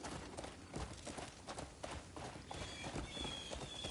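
Rapid hoofbeats of a horse galloping in Crimson Desert in a steady, continuous patter, moderately loud, with a faint high tone entering partway through.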